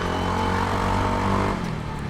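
Yamaha Mio Soulty scooter fitted with an ORBR aftermarket exhaust pipe, running with a steady, close engine drone and a dense harmonic hum that holds even, then eases off slightly near the end.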